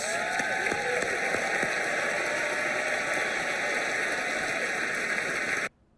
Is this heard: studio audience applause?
yes